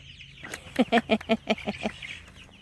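A short burst of rapid clucking from chickens, about eight quick pulses close by, in a quiet setting.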